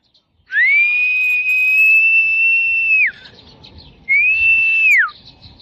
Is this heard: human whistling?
yes